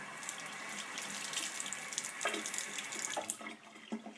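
Produce is scrubbed with a vegetable brush under a running tap at a sink while preparing for juicing. Steady water flow, with faint scrubbing rasps on top.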